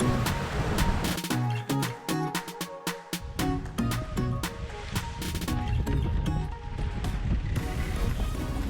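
Wind buffets a sailboat at sea, gusting in close against the microphone with a rough, fluttering roar and rattling clicks from the boat throughout.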